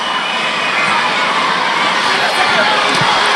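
Crowd at a world judo championship cheering for a competitor, a steady loud roar of voices and shouts filling the arena without pause.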